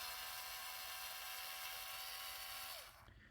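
A power drill's motor whines steadily, picked up as electrical interference through a car audio RCA cable, a dense hissing buzz with a thin falling tone that drops off abruptly as the drill stops near the end.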